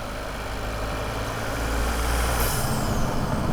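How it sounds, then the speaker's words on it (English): Turbocharged Lexus LBX Morizo RR under acceleration, its engine droning steadily inside the cabin, then a brief airy whoosh of the turbo blow-off valve releasing about two and a half seconds in, followed by a louder engine surge. "It's got a little nice blow off as well."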